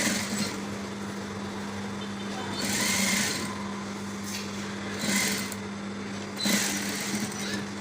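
A sewing machine stitches a waistcoat lining in a steady mechanical whir with a low hum, rising into a few louder stitching runs.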